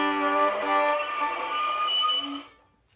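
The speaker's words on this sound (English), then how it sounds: "That sound is happening because my bow is not staying in the bowing area." A violin bow slides over the open strings but drifts onto the fingerboard, producing a sustained, thin, slightly scratchy tone that holds steady for over two seconds and then stops abruptly.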